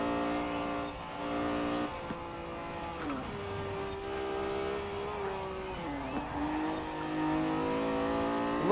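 A modified Lamborghini Diablo GTR with added turbos and all-wheel drive races in Forza Horizon 4, its engine droning loudly and steadily with pitch dips and rises through gear changes and cornering, with no talk.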